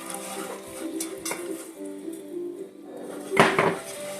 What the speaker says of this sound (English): We're just adding this flour to the grease.